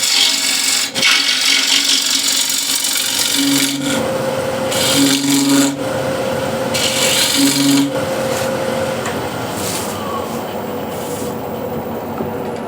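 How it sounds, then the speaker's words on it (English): A wood-turning gouge takes a peeling cut into a spindle on a lathe, making a continuous loud, close scraping hiss with faint tonal hum from the spinning work and brief rises in pressure. "Easiest way to do that is using a wing of the gouge and go straight in to a spindle. That will do peeling cut"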